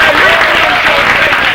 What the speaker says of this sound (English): Please round of applause for Shotgun one more time